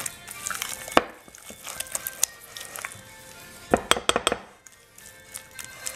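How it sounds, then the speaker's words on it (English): A spoon works through yogurt and labneh in a bowl for tzatziki, giving soft stirring scrapes with a few sharp clinks against the dish, close up and without voices. "you keep mixing it till it's homogenized, so everything goes all over, and you mix the yogurt with the labneh"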